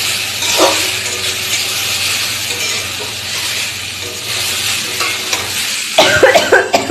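Vegetables frying in a pan give a steady sizzle with stirring clatter throughout, close and moderately loud, with a burst of sharper scraping and clinks near the end.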